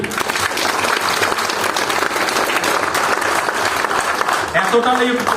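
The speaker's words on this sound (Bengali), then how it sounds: "সবার জন্য একটা জোরে হাততালি।" A seminar audience at a business program in Digha claps loudly and continuously for several seconds, a dense wash of applause, with a voice cutting in near the end.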